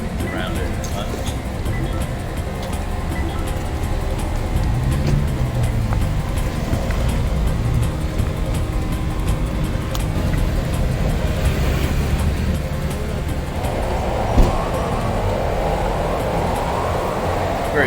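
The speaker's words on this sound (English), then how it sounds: "The road's busy." Busy road traffic outside Baia station in Italy, a steady dense roar of passing cars and engines that swells near the end, close and continuous.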